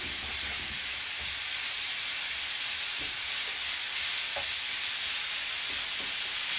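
Ground beef frying in oil in a pan, a steady broadband sizzle and hiss lasting throughout with occasional faint stirring clicks, close and moderately loud, no voices.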